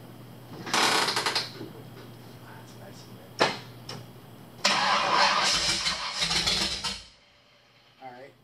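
A dually Suburban engine with a new camshaft cranks and catches in several loud bursts, revving between attempts before dropping back near idle; speech is also heard.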